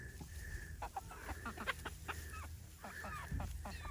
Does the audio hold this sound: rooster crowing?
yes